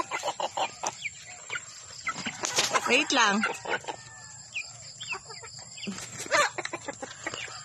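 Sasso hens cluck busily nearby in a backyard farm while a rooster crows loudly, with a person speaking briefly among the birds.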